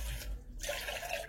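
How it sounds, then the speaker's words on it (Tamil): Water poured onto a plate of old leftover rice, a short close splashing trickle with a brief pause midway, heard without talk. "தண்ணி ஊற்றிக்கலாம்."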